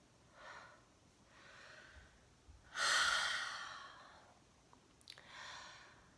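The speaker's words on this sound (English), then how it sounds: "So I want you to take a deep breath with me." A person draws a few soft breaths and then one deep, audible breath in and out, slow and close in a quiet room, with no speech.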